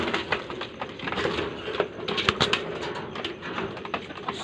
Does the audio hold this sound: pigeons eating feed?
yes